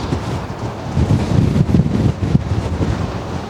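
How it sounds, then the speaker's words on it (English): Steady wind buffeting the microphone during a ride on a 2023 Moto Morini STR650 Seiemmezzo motorcycle, a continuous low rumbling roar with gusty swells, no voices. "See my hair waving in the wind? It's windy."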